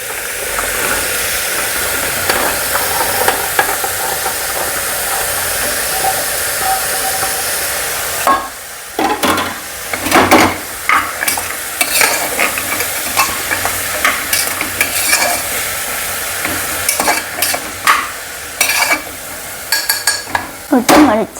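Carrots and potatoes go into a hot frying pan for a white kuruma: steady loud sizzling for several seconds, then a spoon stirring and scraping through the vegetables in repeated clattering strokes.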